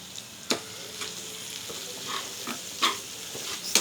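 A spoon stirs curry with freshly added coriander in a sizzling pan, giving a steady frying hiss broken by repeated scraping clacks against the pan.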